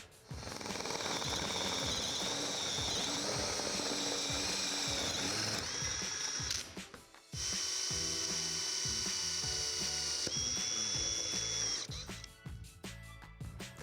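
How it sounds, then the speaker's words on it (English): A drill with a hole saw cuts through an acrylic tub wall panel while fitting a Delta Classic 500 tub wall set, a loud, close, grinding whine that runs steadily, breaks off briefly midway, then resumes before fading into clatter. "drill a little bit of a pilot hole to help keep your hole saw centered as you drill down through it"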